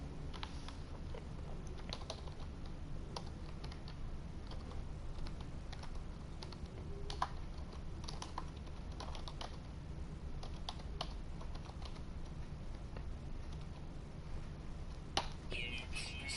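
Typing on a computer keyboard during No Man's Sky play, a steady stream of quiet key clicks over a low hum that goes on for the whole stretch, with no talking.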